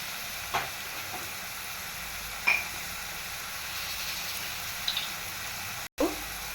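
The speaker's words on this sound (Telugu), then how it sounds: "ఉల్లిపాయలు వేసుకున్నాము. ఉల్లిపాయలు వేస్తున్నప్పుడు కొంచెం సాల్ట్ వేసుకున్నాము." Onions with a pinch of salt fry in a pan for a potato and prawn curry, giving a faint, steady low sizzle with a few brief clinks and scrapes of stirring.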